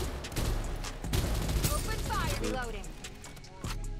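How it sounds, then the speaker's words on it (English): Gunfire in the mobile battle-royale game Farlight 84, a dense burst of loud shots and crackling effects through the first half, then sweeping sound effects, with players talking over it. "Yeah, they're shooting."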